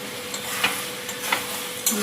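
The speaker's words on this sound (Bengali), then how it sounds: "পালং শাকটা ভাজবো" Spinach sizzles and crackles steadily in a hot pan, a close, continuous hiss broken by a few sharper stirring clicks, with no talking.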